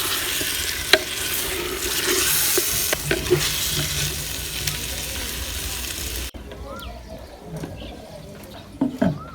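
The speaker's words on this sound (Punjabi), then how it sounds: "ਹੁਣ ਇਹ 'ਚ ਸ਼ਾਮਲ ਕਰਾਂਗੇ ਆਲੂ ਜਿਹੜੇ ਅਸੀਂ ਪਹਿਲੇ ਫਰਾਈ ਕੀਤੇ ਸੀ। ਇਹਨਾਂ ਨੂੰ ਵੀ ਅੱਛੀ ਤਰ੍ਹਾਂ ਮਿਕਸ ਕਰ ਲਾਂਗੇ।" Previously fried potatoes being stirred into a sizzling dry potato and green pea curry in a pan: a steady close frying hiss with scraping stirs, dropping to a quieter sizzle partway through.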